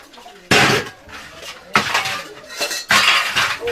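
Metal pots, dishes and utensils clatter and clank as they are washed in a home, in three loud bursts of scraping and clinking close by, with no clear talk over them.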